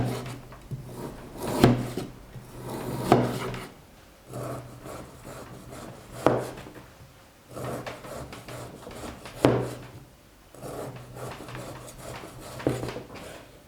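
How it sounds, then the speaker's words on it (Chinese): A knife saws through pork on a cutting board in repeated rough, rasping strokes, each cut ending in a firmer thud against the board, spaced a second or two apart and heard up close. "切成稍微厚一点的片儿，"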